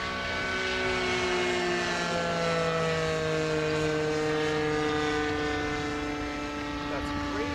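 A twin-engine RC Cessna Skymaster 337 model plane drones steadily overhead with its front engine idling, a continuous buzzing propeller hum with harmonic whine that holds at a fairly even level throughout.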